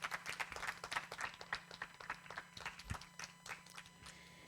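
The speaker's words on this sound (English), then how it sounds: "Please give them a big round of applause." An audience claps in applause for two speakers invited onto the dais at a literary conversation event, a steady patter of many hands over a low hum, fairly faint and without speech.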